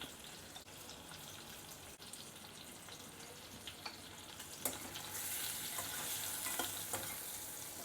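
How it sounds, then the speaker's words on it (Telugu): Potatoes fry in hot oil with turmeric, salt and chili for aloo palak, giving a steady close sizzle with scraping stirs, the hiss growing louder toward the end. "స్టవ్ పై ఆయిల్ వేడైన తర్వాత పొటాటోస్ వేసేసుకోవాలి. దీనిలో మనం ఇప్పుడు కొంచెం పసుపు, ఉప్పు, కారం వేసుకొని ఫ్రై చేసుకోవాలి."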